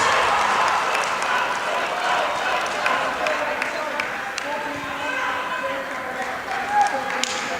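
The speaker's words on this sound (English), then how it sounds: "the cheering squads are very loud and noisy" Steady crowd noise with cheering and scattered clapping at an indoor club badminton championship match, continuous and moderately loud, with a voice talking over it.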